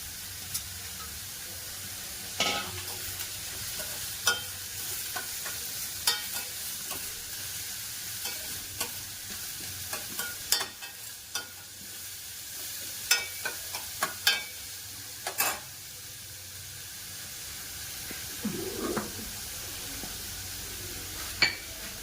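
Curry leaves frying in hot oil in a pan, a continuous crackling sizzle with sharp spitting pops scattered throughout and scraping stirring sounds, close up with no talking.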